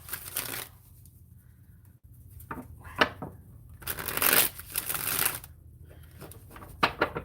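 Tarot cards being shuffled by hand in several crisp riffling bursts separated by quieter pauses, close and moderately loud, in a quiet indoor room.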